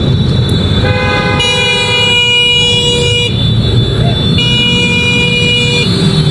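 Vehicle horns blare in heavy city traffic near a motorcycle lane, long sustained honks that overlap and change pitch, loud and close over a steady engine and road rumble.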